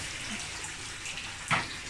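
Bathtub water running faintly and steadily while radio cassette parts are washed, with a brief louder splash near the end.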